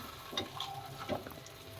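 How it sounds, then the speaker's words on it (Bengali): An egg roll fries quietly in a pan at home, giving a soft, steady sizzle with a few faint crackles and clinks throughout. "একটু ভাজা হোক, এটা ভাজা হতে থাক"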